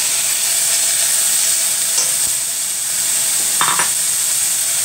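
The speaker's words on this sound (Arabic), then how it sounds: "هسه راح أضيف اللحم اللي أنا سلكته" Boiled lamb meat being stirred into frying onions gives a continuous close hiss of sizzling oil, with a few brief clinks and scrapes of the spoon against the pan.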